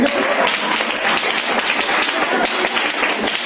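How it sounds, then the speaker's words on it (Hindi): Classroom audience clapping, a dense continuous patter of many hands held steady and loud throughout, with faint voices mixed in. "ताली तो बजा दो, मैं आ गया।"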